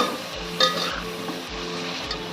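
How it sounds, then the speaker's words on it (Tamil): Mutton biryani masala being stirred in a pot, a continuous close sizzle with a spoon scraping and tapping in a slow, repeating rhythm. "போட்டு அடிக்கடி கிண்டி விட்டு மூடி வச்சுக்கோங்க."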